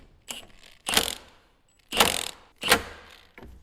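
A ratchet tightens the clutch nut on a Puch ZA50 moped motor, heard as four loud bursts of ratcheting clicks close up, separated by short pauses, with no talking.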